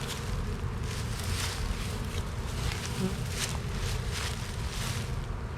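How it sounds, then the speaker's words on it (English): Loud, steady buzzing of honeybees at a queenless spring split hive, a dense swarm-like hum filling the whole stretch close to the listener with no pauses. "Yeah, they're buzzing pretty loud."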